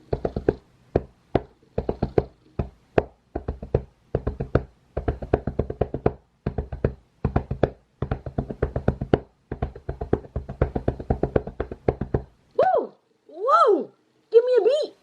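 Hands tap out a beat by themselves, a fast, irregular run of sharp, close percussive hits with short pauses between bursts, ending in a few vocal sounds.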